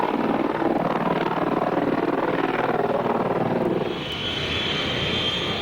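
A CH-53E Super Stallion heavy helicopter flies overhead as a loud, steady rotor and engine roar that shifts tone slightly near the end.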